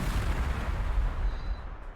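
Heavy artillery fire in the strategy video game Warhammer 40,000: Sanctus Reach, a dense continuous rumble of booming shots with no talk over it.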